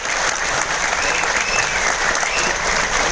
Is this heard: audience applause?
yes